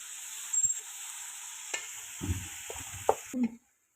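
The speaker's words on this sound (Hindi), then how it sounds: "अब इसके बाद हमने इसको कीमे को अच्छी तरीके से फ्राई करना है और इसके अंदर हमने कीमा फ्राई कर लेना अच्छी तरीके से।" Minced beef qeema fries in a pan with a steady sizzling hiss, broken by a few close scrapes and clacks of stirring before it cuts off to silence.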